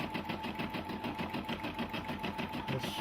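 A Brother LB6800 combination sewing and embroidery machine stitching steadily, a fast even mechanical chatter with a rhythmic pulse, close and continuous throughout with no talking.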